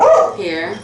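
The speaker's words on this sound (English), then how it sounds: "I do apologize for my dog." A pet dog barks briefly in a room where vintage pattern glass compotes and candy dishes are being appraised; a short loud yip-like bark overlaps a person talking nearby.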